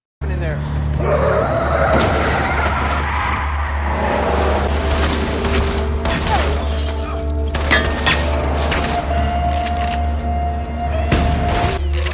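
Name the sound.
gunfire in a shootout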